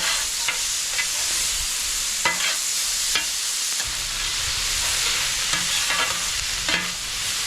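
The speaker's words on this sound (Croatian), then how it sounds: "I kad se povrće zgotovilo, sve zajedno lijepo promiješamo ovako." Vegetables for fajitas fry in oil in a pan with a loud, steady sizzle, while a spatula scrapes and stirs in scattered strokes, close up.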